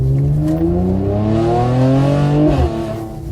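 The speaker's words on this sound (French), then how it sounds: "écoutez le moteur, elle consomme" Car engine running and revving hard, a loud close roar climbing in pitch then dropping sharply near the end with a brief tyre-like squeal, heard alone without talk.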